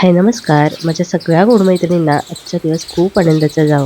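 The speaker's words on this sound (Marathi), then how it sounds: "दिवसभर चिमण्यांचा चिवचिवाट इथं चालू असतो" Sparrows chirp through the day at a home, faint high twitters running under a woman's close, continuous speech.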